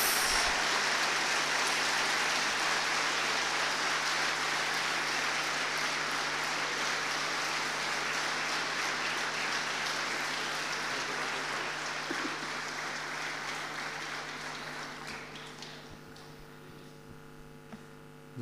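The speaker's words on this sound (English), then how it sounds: "with a very big round of applause." A large audience at a university leadership lecture claps in a dense, sustained round of applause that holds steady for about fifteen seconds before thinning and fading out, with a low hum beneath.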